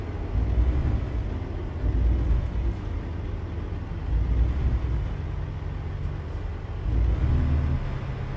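A freight truck engine drives along in the video game ICAY Freight in Texas, a steady low droning rumble that swells and eases slightly, with no talk.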